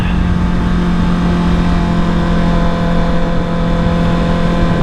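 A 2021 Honda CBR650R motorcycle engine runs loud and steady during a ride, a continuous close drone with wind noise and no pauses.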